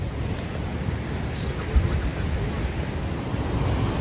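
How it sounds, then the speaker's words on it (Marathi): Sea waves wash onto Hedvi beach, a steady soft surf wash mixed with wind buffeting the microphone, with one brief bump midway. "समोरच बघताय हेदवीचा बीच, हेदवी समुद्र किनारा"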